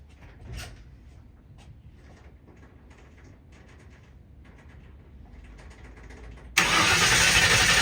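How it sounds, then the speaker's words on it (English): An engine cranked over to check whether the fuel pump delivers fuel: soft clicks and mechanical shuffling, then a sudden loud, steady starter churn that begins near the end and continues to the close. "I'm gonna crank it over to see if any fuel shoots out of the, make sure this fuel pump's pumping"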